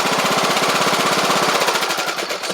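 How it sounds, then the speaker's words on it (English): A Craftsman riding lawn mower engine running on a new AGM battery, a loud, close, steady rapid chugging drone that holds throughout without any voices. "Hopefully your mower's ready to get up and go and mow again, just like this Craftsman here with the new battery in it."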